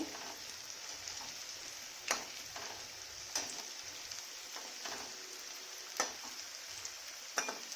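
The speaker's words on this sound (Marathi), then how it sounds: "आता काय करते अशा थोड्या थोडे करून ह्या कोथंबीर वड्या तळून घेते" Coriander wadi deep-fry in hot oil with a soft, continuous sizzle and bubbling, broken by a few sharp crackles and pops. The frying is close but fairly quiet, with no talking.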